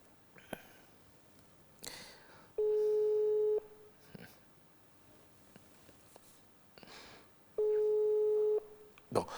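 A telephone call back to an unanswered caller during a French radio talk show produces two steady, loud busy-signal tones, each about a second long and several seconds apart, amid faint studio rustles and clicks.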